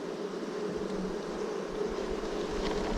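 Honey bees buzzing beside an open hive during a frame inspection, a steady close droning hum with no voices.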